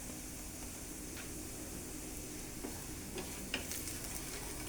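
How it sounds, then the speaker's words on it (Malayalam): Butter, fried garlic and cornflour are stirred together in a pan, giving a quiet, steady sizzle with a few light scrapes and taps from a spoon. "എല്ലാം കൂടി അങ്ങോട്ട് ജസ്റ്റ് ഒന്ന് ഇളക്കി അങ്ങ് യോജിപ്പിക്കാം."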